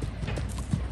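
A gaited horse's hooves trotting in a quick, steady clip-clop rhythm, fairly close and moderately loud, with no talking.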